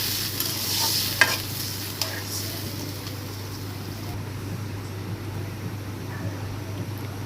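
Food fries in a pan on the stove while being stirred, giving a steady sizzling hiss with a few light scrapes and knocks of the utensil near the start.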